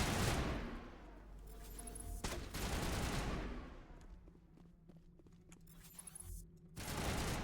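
Bursts of gunfire in the video game Mass Effect, several dense, loud volleys that come and go with quieter stretches of scattered shots and footsteps in between.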